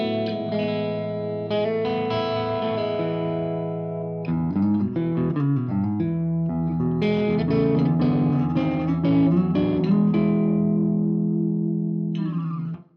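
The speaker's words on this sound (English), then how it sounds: "when I dial them both down a little bit, get this kind of clean sound." An electric guitar played with both volume controls turned partly down for a cleaner tone, strummed chords and picked notes ringing steadily and close for about twelve seconds, no talking.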